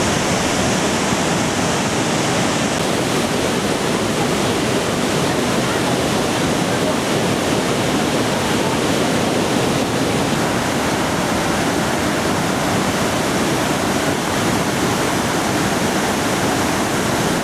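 Iguaçu Falls on the Brazil–Argentina border, over 200 cascades along a 2.7 km front, roaring as a loud, constant, broadband wash of falling water with no breaks.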